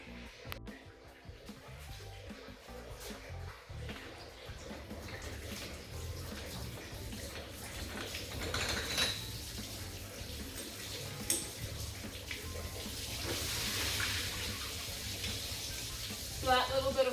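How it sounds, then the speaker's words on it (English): Water hisses and runs steadily from a leaking hose on a goat milking system. The flow rises a little louder toward the end over constant background noise. "So we've got a leak in one of our hoses right now, which basically just puts water through all of the time."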